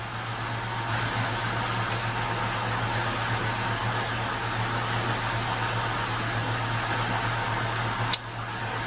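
An xTool apparel printer running, giving a steady low mechanical hum with a constant tonal drone and airy fan-like noise, plus one sharp click near the end.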